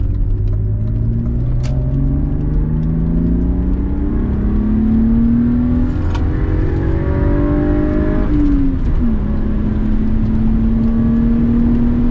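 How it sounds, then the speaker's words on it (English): A BMW E36 323 pulls hard on a highway, its engine droning loud and close as the pitch climbs steadily through a gear, then dips at a shift and resumes from a lower note. "I'm going to be driving, and we'll do a pull. See how quick the little 323 is."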